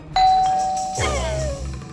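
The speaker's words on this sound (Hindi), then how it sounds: "बज गई घंटी" A doorbell chimes once, a bright ding followed by a lower dong that rings out, close and clear with no talking.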